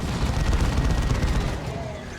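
Heavy weapon fire from a plasma cannon in a Dawn of War 2 3v3 match, a loud, dense stretch of overlapping blasts and booming impacts that rolls on continuously.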